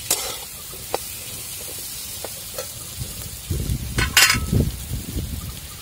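Fresh drumstick pods are sautéed in a pan for a Maharashtrian village-style vegetable dish. A steady sizzle runs under occasional stirring scrapes, and a thicker clatter of stirring builds toward the end, close by.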